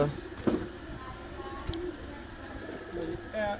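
Pigeons kept on a rooftop coo softly in low, intermittent calls amid background noise, with a few short bumps and some distant voices mixed in.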